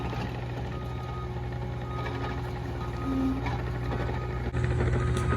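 Asphalt milling machine grinding up an old driveway gives a steady, droning mechanical rumble with a low engine hum, constant and moderately close throughout with no voices.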